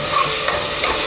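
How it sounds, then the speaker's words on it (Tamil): Salt and ground pepper being stirred and sautéed in hot oil in a pan for mutton kurma, a short burst of close, loud sizzling and frying hiss with a light scrape of the spoon, no voices. "அது கூட மிளகுத்தூள் போட்டுட்டு நல்லா வதக்கிடுங்க."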